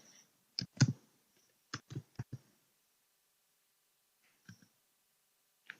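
Several clicky taps on a computer keyboard, mostly grouped in a short burst near the start and a pair a few seconds later, close and quiet in an otherwise silent room.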